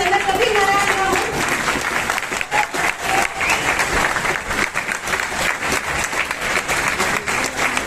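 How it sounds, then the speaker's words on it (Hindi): Loud audience applause fills a large gathering at a seminar event, many hands clapping densely and continuously, with some voices talking over the crowd. "और आप लोगों की इतनी जोरदार तालियां होनी चाहिए"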